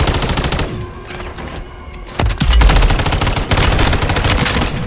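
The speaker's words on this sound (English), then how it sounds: "Taking effective fire!" Rapid automatic gunfire in Call of Duty: Modern Warfare 3 Zombies, a dense loud stream of shots that grows heavier and deeper with booming blasts partway through, with no talk.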